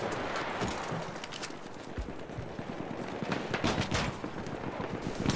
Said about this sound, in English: I notice I am being shot at